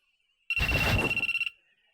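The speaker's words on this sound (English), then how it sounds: "his phone rings." A phone rings in a visual novel game: a loud, rapid electronic bell trill bursts in for about a second over a faint steady tone, then cuts off.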